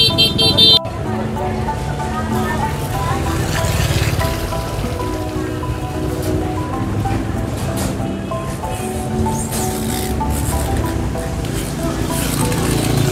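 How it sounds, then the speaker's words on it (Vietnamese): Dense motorbike traffic at a crowded night market during the Tet holiday, a steady mid-loud engine rumble broken by a few short horn toots, with people talking in the background throughout. "tất cả các xe máy đấy."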